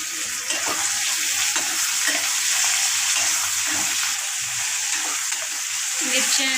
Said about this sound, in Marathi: मिरची आणि लसूण थोडंसं परतून घेऊया